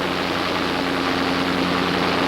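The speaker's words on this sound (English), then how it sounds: "Listen to the ugly sound of that engine" A Fokker triplane engine: a steady, rough drone with a low humming tone, running continuously and loud throughout.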